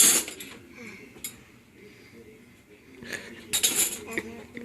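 A small child loading dishes and cutlery into a dishwasher at home, with clinking silverware and clattering plates in bursts at the start and end, close and moderately loud, with a faint voice in between.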